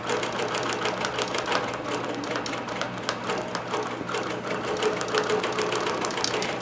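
A computerized sewing machine quilting with 40 weight polyester Polysheen thread top and bottom runs alone, a rapid, steady stitching rattle that stays fairly loud throughout.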